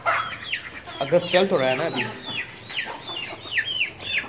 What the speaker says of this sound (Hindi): सब मुर्गे जो हैं वो लंच कर रहे हैं।